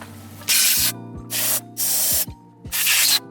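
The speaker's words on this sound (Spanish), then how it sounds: "ahora vamos a retirar ese WD-40 sucio con la pistola" Compressed air from a blow gun blasts dirty WD-40 off a Toyota Soarer engine in a workshop, four loud hissing bursts of about half a second each separated by short pauses, with a low mechanical hum running underneath.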